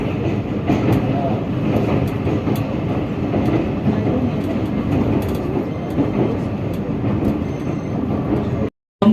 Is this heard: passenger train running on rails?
yes